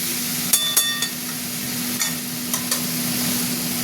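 Tomato, green chillies and turmeric fry in a pan for a fish curry with potatoes, a steady soft sizzle punctuated by several sharp clinks of a spatula stirring against the pan.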